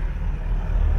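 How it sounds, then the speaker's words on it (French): A Mazda MX5 droning inside a road tunnel on the A6 motorway, a steady loud low-pitched engine and road rumble filling the enclosed space for about a second, with no talk. "va voir le bruit que fait la Mazda dans le tunnel"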